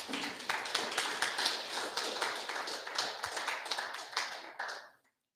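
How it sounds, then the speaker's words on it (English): Audience applause following a talk on Ojibwe grandfather teachings, a dense crowd of clapping hands sustained for about five seconds before stopping abruptly. "Let's give him a round of applause here."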